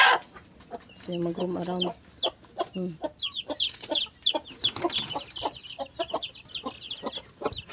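A mother hen clucks in low bursts while her newly hatched chicks, a third batch, cheep in quick, high, scattered peeps nearby. A person talks intermittently over them.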